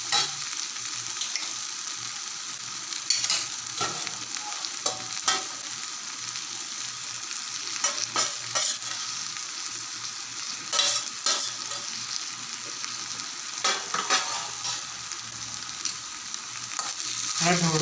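Food stirred in a pan after salt goes in, a continuous sizzle broken by repeated scraping and clinking of the spoon against the pan, close and fairly steady.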